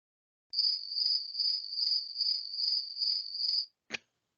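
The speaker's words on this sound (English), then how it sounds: "This is fucking crickets." A crickets chirping sound effect: a clean, steady high-pitched trill pulsing in even bursts for about three seconds, loud and alone, then stopping with a brief click.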